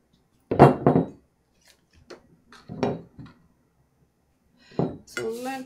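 Polish pottery ceramic loaf pans clink and knock against each other as they are handled, a few short clustered bursts separated by pauses, with brief talk near the end.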